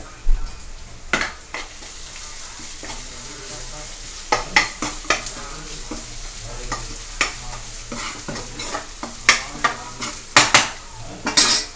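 Ginger-garlic paste fries in oil with a steady low sizzle, while a utensil scrapes and clinks against the pan in irregular close strikes throughout.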